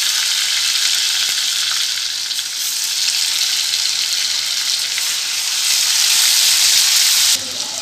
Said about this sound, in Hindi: इसके फ्राई हो जाने के बाद हमें पिसा हुआ लहसुन अदरक डालेंगे।